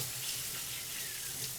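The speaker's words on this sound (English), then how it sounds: "I'm gonna rinse my hands quickly." Tap water runs steadily into a sink as hands are rinsed beneath it, a continuous close, even splashing hiss with no voices.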